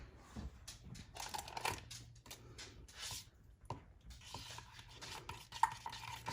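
Food stirred with a utensil while cooking a taco ring, a string of soft scraping and clinking against a dish, close and quiet with no talk.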